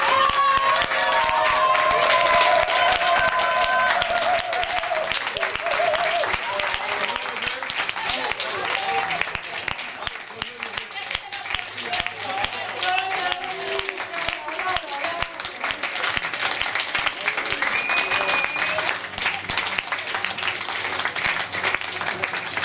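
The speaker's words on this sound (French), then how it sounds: "On les applaudit." Audience applause at an improv theatre show, a dense sustained wash of clapping that runs the whole stretch, loud and close, with some cheering and voices mixed in.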